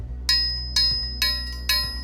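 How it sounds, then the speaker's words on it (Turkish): School recess and class period bell ringing in four short, evenly spaced bursts, each a bright electronic ring over a constant low background hum, fairly close and clear. "Bu okulun teneffüs zili, ders saat zili."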